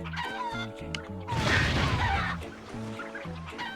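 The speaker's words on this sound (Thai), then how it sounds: "ไม่เห็นไหมถ้าเอาไก่ไปโดนระเบิดอะ ไก่มันก็จะออกมาเรื่อยๆ" Cartoonish chickens cluck in a steady repeating pattern in the video game Crash Twinsanity, interrupted partway by a loud crashing burst of an explosion, then the clucking resumes, with no talk.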